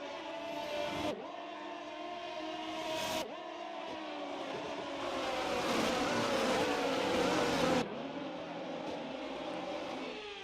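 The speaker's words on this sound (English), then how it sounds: "the cars come back to the grid to line up for the start of the race" Engines of F1 23 race cars on the formation lap at the Monaco street circuit in a video game, a steady layered whine that swells and shifts pitch as cars pass, with two brief cuts and a fuller stretch midway.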